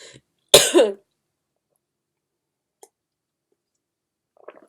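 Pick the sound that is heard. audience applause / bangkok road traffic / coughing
coughing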